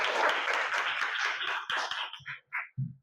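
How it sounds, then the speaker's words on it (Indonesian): Students in a classroom clap together in a quick, dense burst of applause that thins out into a few scattered claps, close by and fading within a few seconds. "Tepuk tangan dulu."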